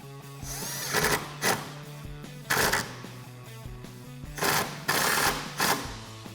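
A socket ratchet tightens a factory bolt on a Jeep Gladiator JT cold air intake install, giving several short bursts of rapid clicking, fairly close and clear, with pauses between strokes.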